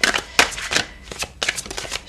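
Playing cards are shuffled and drawn, giving quick papery riffles and flicks in several short close bursts.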